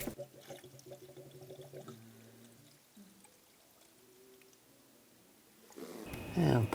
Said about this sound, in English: Now we're going to add the coolant.